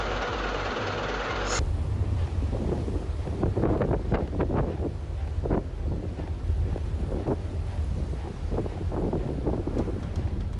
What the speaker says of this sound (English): wind speeds exceeding 32 meters per second create enough pressure to fling light objects across the surface of the water